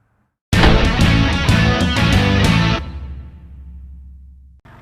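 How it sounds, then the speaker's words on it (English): A Jeep Grand Cherokee diesel engine starts and runs loudly up close with a rough, knocking clatter, then the sound drops to a low fading rumble. "That's the sound of a diesel."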